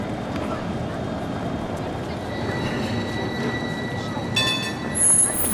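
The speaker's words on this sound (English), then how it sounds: "the tram makes its way between them" A tram rolls through a city centre in Fribourg, a steady rumbling drone of wheels on rails with faint squeals of the wheels, rising toward the end as it passes nearby.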